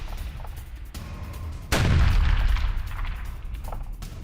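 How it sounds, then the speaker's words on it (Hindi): A Russian FAB-500 bomb strikes a Ukrainian military position near Kharkiv, heard as one sudden deep boom midway through, then a rumbling decay over faint background noise. "यूक्रेनी सैन्य ठिकाने पर फैब 500 बम से हमला किया गया"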